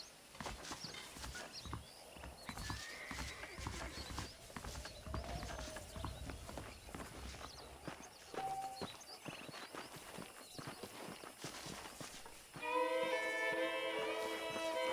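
Horse hooves clip-clop at a steady walking pace over ambient background in Red Dead Redemption, with a horse whinnying briefly near the end.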